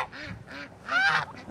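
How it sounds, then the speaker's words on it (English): Farm ducks quack in several short, nasal calls close by, with a louder burst of overlapping quacks in the middle, a goose and goats also on the farm. "Ducks are coming, and they're all making their way over."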